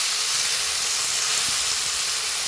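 Fenugreek leaves sautéed in oil, a dense steady hiss and sizzle close by with faint stirring underneath, no voices.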